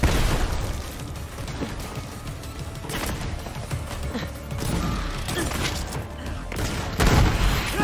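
Rockets from a legendary weapon in Borderlands 3 burst in a dense, continuous barrage of booming explosions and gunfire, loud and close, with heavy thuds swelling near the end.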